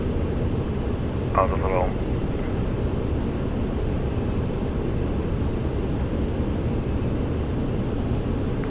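A TFDi Design MD-11 airliner climbs out of Rome in Microsoft Flight Simulator, with a steady, loud broadband engine roar throughout and a brief spoken phrase early on.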